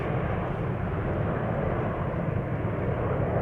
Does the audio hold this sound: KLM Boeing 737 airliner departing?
yes